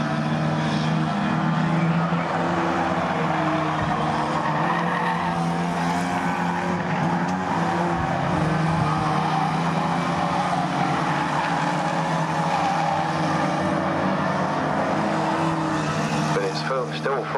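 Stock rod race cars in a heat at Swaffham Raceway, engines roaring continuously with tyre squeal and skidding as cars circle the track, loud throughout under a race commentator's voice.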